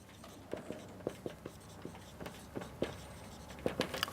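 Marker strokes scratch and tap on a board as Bayes' theorem is written out, short irregular squeaks and clicks in quick bursts, close and fairly quiet, with faint breathy sounds between.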